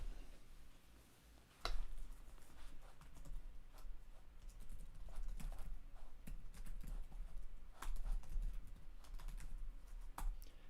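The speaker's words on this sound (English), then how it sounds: "I'm just typing on the chat here" Keys clatter steadily on a computer keyboard nearby, a run of light irregular taps with a few sharper strokes, at moderate volume with no voices over it.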